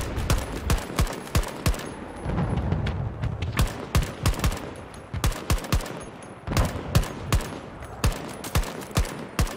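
Gunfire in the video game Battlefield 2042, with repeated close bursts and single cracking shots, some quick rhythmic volleys, and a brief lull in the middle.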